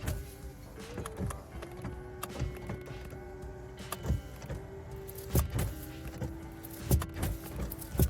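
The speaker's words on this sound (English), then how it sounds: "Customer states, my window fights me." Car power window motor struggling, whining in several strained runs that stop and start, with clunks and rattles from the door between them, close and fairly quiet.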